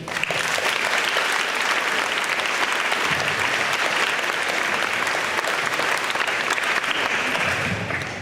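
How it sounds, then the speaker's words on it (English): A crowd at a school sendoff for the tennis and track state teams gives a round of applause for an athlete, steady full clapping that carries on for several seconds without letting up. "And another round of applause for Bree Shebang."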